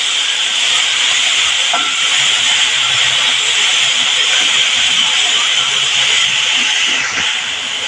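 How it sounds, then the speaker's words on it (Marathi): Fenugreek leaves sautéing in a hot pan make a loud, continuous hiss and sizzle with faint scraping and stirring underneath and a small clink near the end. "मेथी फक्त थोडी परतून घेणार आहे बावून."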